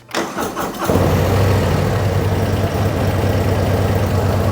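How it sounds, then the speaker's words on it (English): A 2024 Harley-Davidson Road Glide or Street Glide motorcycle engine cranks briefly, catches, and settles into a steady, rumbling idle up close. "We're going to start the motorcycle here"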